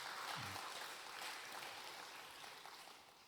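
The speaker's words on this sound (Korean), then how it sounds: "우리 다 같이 박수로 격려하겠습니다" A church congregation at a Wednesday service applauds after a hymn, a faint, steady patter of clapping that fades slightly toward the end.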